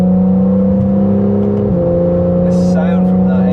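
A Porsche 991.1 Carrera S engine with X51 Power Pack hums steadily at a low pitch, then its tone dips and shifts as it revs, with a brief higher whine near the end.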